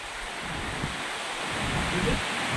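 Strong wind gusting during a rainstorm outdoors in Gujarat, roaring as steady broadband buffeting across the microphone with slight swells, no other distinct sounds.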